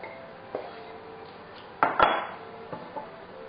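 A spoon scrapes and knocks against a bowl and a baking tin while shortbread mixture is spooned in, making a few close clinks and thuds. Two louder knocks come near the middle.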